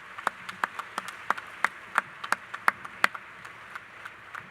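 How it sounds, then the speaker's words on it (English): A small, sparse group claps for faculty and staff at a spring college commencement ceremony. About a dozen distinct, sharp claps ring out at an irregular pace over a quiet hall. "Can we give our faculty and staff a round of applause?"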